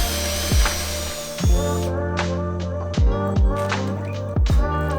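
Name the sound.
drilling holes with 1/2-inch drill bit in wood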